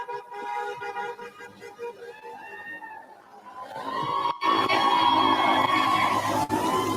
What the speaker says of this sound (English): There's a bunch of cheering happening right now.